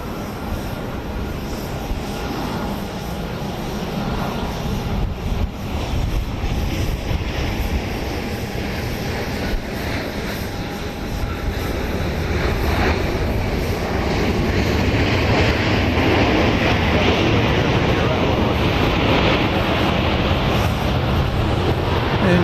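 Southwest flight 1953 rumbles past at Dallas Love Field, a loud continuous jet roar that grows heavier and fuller over about twenty seconds, with no one talking.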